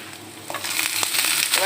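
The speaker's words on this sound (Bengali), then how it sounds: "তেল দিয়ে আমি হাফ কাপ পেঁয়াজ কুচি আর 3টি কাঁচামরিচ কুচি দিয়ে একটু ভেজে নিয়েছি।" Half a cup of chopped onion and three chopped green chillies fry in two tablespoons of oil, a close, bright sizzle that swells with crackling bursts as they are stirred.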